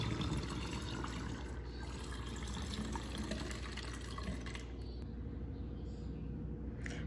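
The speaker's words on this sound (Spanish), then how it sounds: "una taza de alcohol" A cup of alcohol pours into a spray bottle in a steady close trickle lasting about five seconds before quieting, with no talking.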